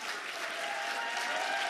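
Steady audience applause for a baptism candidate at a church baptism service, dense continuous clapping from a crowd, fairly even throughout with no voices on top.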